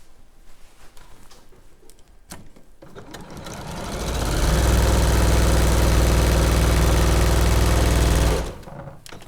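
A sewing machine set to full speed, about 1,250 stitches a minute, starts up after some quiet handling noises. It runs as a loud, fast, even mechanical whir for several seconds, then stops abruptly.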